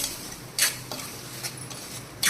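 A few short scraping clinks of a utensil mixing boiled Maggi noodles with egg in a pan, spaced irregularly over a faint steady hiss, with no talking.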